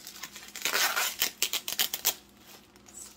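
Packing tape is pulled and torn off a package during an unboxing, a run of quick, crackly rips and peels close to the microphone, followed by quieter rustling.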